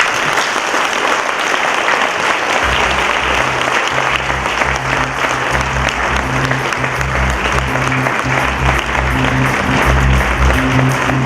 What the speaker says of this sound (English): please join me in applauding and welcoming the Senate President, Mr. Senator Franklin Drilon